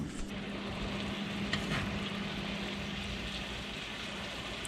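Catfish frying in a pan over medium heat, a steady loud crackling sizzle that holds evenly without pause, close up and with no talk.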